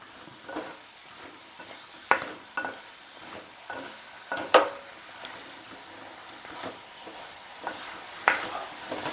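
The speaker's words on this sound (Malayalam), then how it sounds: "സവോള ഒന്ന് വഴന്ന് വരട്ടെ. നന്നായി വഴന്നണം." Onions being sautéed with salt in a pan for an egg curry, a steady low sizzle with repeated scraping stirs and sharp spoon clacks against the pan at irregular intervals, close and fairly loud, no talk.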